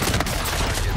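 Shotgun fire in a Call of Duty match: a dense, loud, close barrage of blasts filling a single second.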